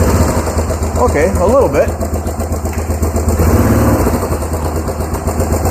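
A Yamaha Big Bear ATV engine runs steadily near the listener while its clutch is held between gears, a continuous mid-pitched rumble, with someone speaking briefly over it.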